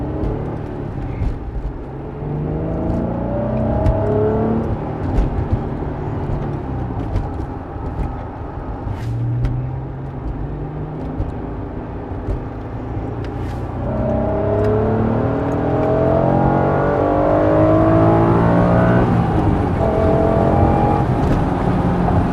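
A stock Honda NSX engine revs and pulls through its gears up close, the pitch climbing and dropping in repeated sweeps, loud and steady throughout, with no voices over it.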